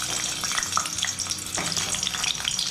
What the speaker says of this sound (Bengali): এবার আলুগুলোকে আমি ভেজে নেব